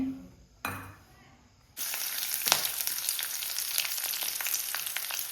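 Oil goes into a hot pan while cooking karadavalakki, and after a brief quiet start a loud, continuous sizzle breaks out, crackling and spitting with small pops throughout.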